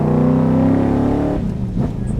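A powerful car engine revs hard and climbs in pitch, loud and close, then eases off briefly before picking up again, with no voices over it.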